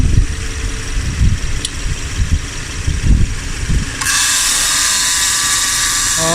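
A car air conditioning compressor runs after R134a refrigerant is added. A rumbling engine-like drone with irregular low thumps gives way to a steady, louder whirring hum that continues to the end.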